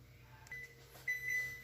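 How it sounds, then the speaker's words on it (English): An oven timer buzzer sounds in a home kitchen while chicken breast wrapped in bacon cooks, giving two short electronic tones, the second held longer, fairly faint over a low steady hum. "the buzzer just went off"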